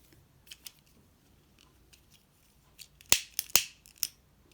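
Scissors snip crochet thread while lace edging is made, two crisp close cuts followed by a lighter click, with quieter handling rustles before them.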